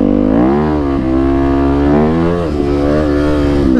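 A dirt bike engine revs hard on a mountain trail, a loud, close, continuous mid-pitched drone that rises and dips slightly in pitch over a few seconds, with no voices.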